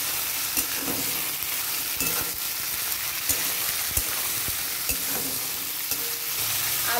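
Potatoes fry in a pan while being stirred, giving a continuous close sizzle with regular scraping knocks of a spatula against the pan throughout.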